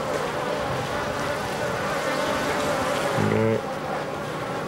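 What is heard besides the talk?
bees buzzing at a concrete beehive in Namibia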